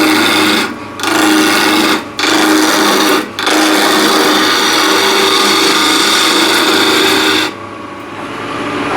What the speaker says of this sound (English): Back with a big spindle gouge.